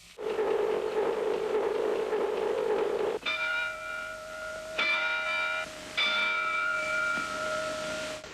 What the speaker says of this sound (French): vous entendrez 3 coups de cloche de la vigie